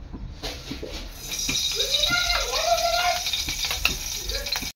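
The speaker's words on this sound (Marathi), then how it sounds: "आता इथे आहे ना मी आपलं घी टाकणार आहे।" Ghee warming and sizzling in a pan, a steady soft frying hiss with light stirring scrapes, while someone speaks softly over it.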